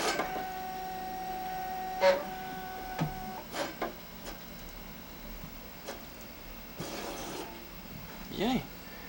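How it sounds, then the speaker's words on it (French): An HP Deskjet 670C inkjet printer powers up with its lid open. Faint mechanical clicks, whirs and carriage movements occur at irregular intervals over a low steady hum. "Je vais la démarrer. Je sais pas si elle va. Ah, voilà."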